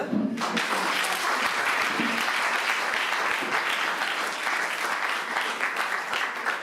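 Audience applause at a lecture, a full, sustained round of clapping from many people that starts abruptly and carries on steadily for several seconds.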